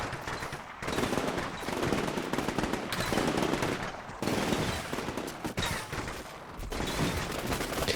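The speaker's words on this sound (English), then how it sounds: "suppressed by long-range machine gun fire from the Lavs" Sustained long-range machine gun fire from LAVs in the Combat Mission Shock Force 2 war game, dense overlapping bursts of gunfire rolling continuously for eight seconds with short gaps, fairly loud and without speech.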